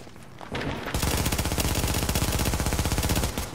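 Machine gun fire in a video game, a long rapid burst of evenly spaced loud shots that rattle on for almost three seconds after a short lead-in.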